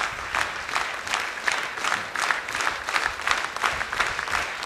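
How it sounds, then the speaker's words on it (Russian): A festive hall audience gives a standing ovation, dense sustained applause with a rhythmic pulse of clapping throughout, loud and filling the room, no voices heard. "И весь праздничный зал Ани аплодировал стоя"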